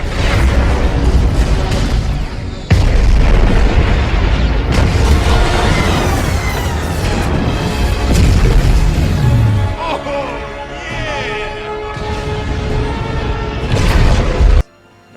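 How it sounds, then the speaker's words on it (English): Loud cinematic explosions as Captain Marvel destroys spaceships in a superhero film battle, with continuous booming blasts and crashing debris, a brief cut near the start and a fading rumble at the end. "Paving the way for Carol to come in and destroy all the ships"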